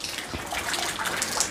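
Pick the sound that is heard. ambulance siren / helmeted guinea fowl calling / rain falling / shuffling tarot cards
rain falling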